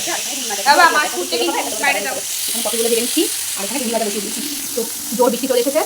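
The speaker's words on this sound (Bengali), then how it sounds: "মাছটা ভেজে দেবো এখানে এই ঢ্যাঁড়স ভাজাটা বসাবো" Fish and okra fry in a pan, giving a steady crackling sizzle under close, continuous talk from a person nearby.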